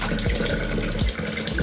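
Water runs continuously from a tap, with steady splashing and gurgling, during a 50% water change for a tank of newly hatched fish fry.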